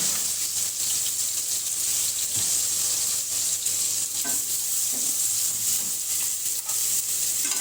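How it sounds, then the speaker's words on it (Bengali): Onions sizzle in hot oil with a bright, continuous frying hiss, punctuated by occasional scrapes and clinks of a spatula stirring in the pan. "আমি এখন এর মধ্যে তেলের মধ্যে পেঁয়াজ দিব"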